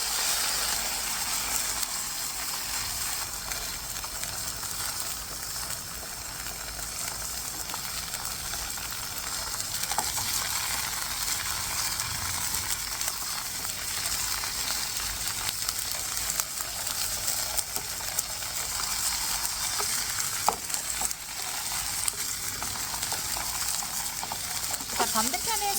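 Tofu fries in a hot pan for a braised tofu dish, with a continuous bright sizzle and crackle that stays even and fairly close for the whole stretch.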